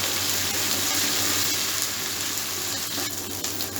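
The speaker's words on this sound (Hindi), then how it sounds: "अब इस प्याज के साथ इसको थोड़ा सा मैं ब्राउन कर लूँगा" Onions browning in a pan for dhaba-style chana dal, a steady close hiss of frying oil with a low hum beneath and faint stirring near the end, no speech.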